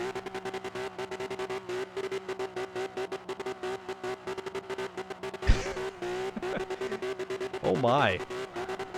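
Race cars in a Forza spec racing series event roar with steady engine drone, then a sharp crash impact and a squealing skid near the end, with revving throughout and a voice exclaiming briefly over it.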